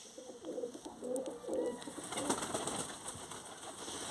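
Soft, low pigeon coos repeat in short rounded phrases against a steady background hiss, with other faint bird sounds scattered through.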